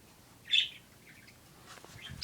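Small birds chirp outdoors in short, bright bursts, one clear call early and another near the end, fairly faint with quiet gaps between.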